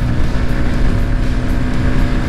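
Yamaha MT 15 V2 motorcycle engine held near 8000 RPM while climbing an incline on a road tour, a loud, steady buzzing drone mixed with wind rush, no pauses.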